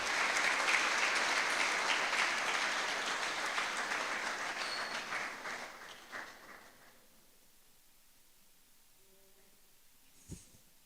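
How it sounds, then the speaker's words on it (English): Audience applause at a public forum on galamsey and sustainable development fills the room after a presentation, steady clapping that fades out over several seconds into near silence, followed by a faint thump. "Another wave of applause for"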